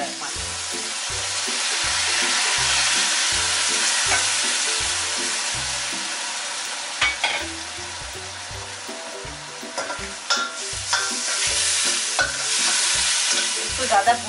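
Soaked moong dal stirred in a hot pan for khichri: a steady sizzle with a regular, rhythmic scrape of the spoon against the pan, sharper clatters toward the end, and no voices.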